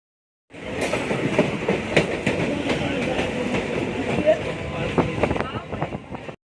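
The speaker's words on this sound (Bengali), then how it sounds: "আমরা অলরেডি শিয়ালদা স্টেশন ঢুকছি।" A train rolls into Sealdah railway station with a steady loud rumble, rhythmic wheel clacks and wind buffeting the microphone throughout, continuous from start to end.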